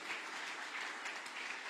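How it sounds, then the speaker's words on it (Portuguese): A church congregation at a worship service applauds, heard as a faint, distant wash of dense clapping that holds steady throughout. "Dê uma salva de palmas ao Senhor."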